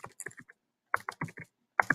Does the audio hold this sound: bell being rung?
no